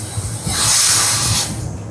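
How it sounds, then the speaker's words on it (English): A brief burst of air hissing from an SCBA compressor drain valve aboard a ship as moisture is drained, a near, loud spray-like hiss that swells and fades over a low machine hum. "We will open another drain to drain out the moisture."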